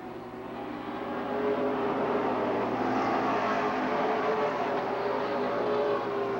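Stock cars race around an oval track at Lake Geneva, engines roaring in a steady, loud, continuous drone that builds slightly after the first second, with no voices over it.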